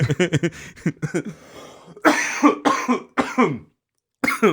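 Several hard, harsh coughs in quick bursts, loud and close, following a stretch of speech.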